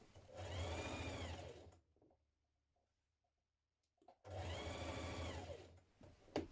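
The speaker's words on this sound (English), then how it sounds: "When you've done this, we're going to stitch that in place." A sewing machine stitches the collar and facing onto a dress in two steady, whirring bursts, each lasting close to two seconds, separated by a quiet pause; close and fairly loud, with no voices.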